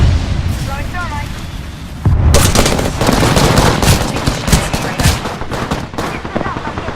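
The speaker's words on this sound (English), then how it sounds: "I'm getting shot at." Rapid bursts of gunfire in the video game Apex Legends, loud and dense, with overlapping automatic fire and sharp shots sustained over several seconds after a quieter stretch.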